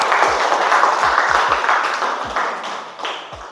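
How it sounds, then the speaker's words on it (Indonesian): Applause in a classroom for a student group after a presentation, a sustained burst of many hands clapping close by, loud at first and gradually thinning out. "Sok berikan aplaus buat kelompok 1"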